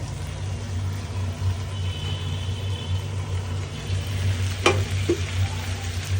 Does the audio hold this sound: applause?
no